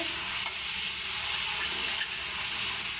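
Drumstick (sajna) leaves fry in a pan with a dense, continuous sizzle and hiss, a steady close-up crackle with faint stirring scrapes and no voices.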